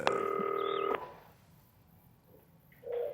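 A quick run of telephone keypad dialing tones sounds close and clear for about a second, followed by quiet line noise and a faint ring-like tone near the end.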